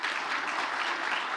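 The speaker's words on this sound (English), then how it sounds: "who's clapping for that" A crowd claps steadily during a political speech at a bill signing, a dense, even patter of applause heard at a moderate distance with no voices over it.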